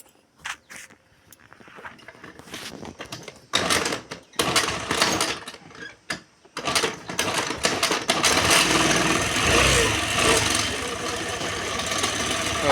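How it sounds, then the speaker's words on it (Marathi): Motorbike being kick-started: repeated kick strokes and sputters give way to a steady running engine that idles loudly and continuously through the second half. "झाली गाडी चालू झाली"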